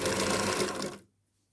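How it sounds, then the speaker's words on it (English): A vintage Singer Featherweight sewing machine whirs steadily at close range, then stops abruptly, leaving near silence. "This little vintage sewing machine."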